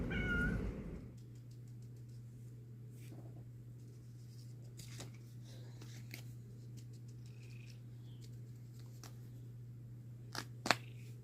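A cat gives a short meow near the start, then a quiet steady hum fills the rest with a few faint clicks and rustles.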